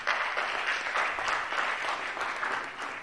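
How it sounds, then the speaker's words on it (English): Steady applause from a conference audience, many hands clapping at an even, loud level for a few seconds without pause. "Please, a round of applause for him."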